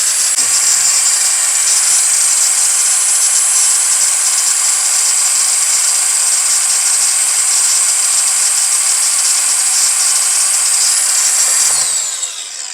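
A Metabo W 18 L BL cordless brushless angle grinder runs continuously at full speed with a loud, steady high-pitched whine, winding down at the very end.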